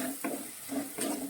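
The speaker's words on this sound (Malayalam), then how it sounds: "നമ്മൾ ഇതിലേക്ക് കീറി വെച്ചിരിക്കുന്ന മുളക് ഇടുവാണേ." Torn green chillies hit hot oil in a pan with sardines, a short close sizzle with soft stirring scrapes pulsing three times in just over a second, no talk.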